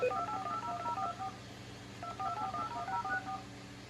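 Telephone dialing tones from a desk phone's display dial button: rapid sequences of short DTMF beeps in two bursts separated by a brief pause, close and clear with no talking.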